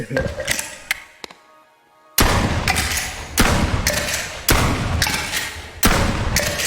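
Shotgun firing in the VR game Bonelab, a sharp sudden blast after a short silence followed by a series of loud repeated shots with a slightly uneven rhythm, close and punchy with no voices.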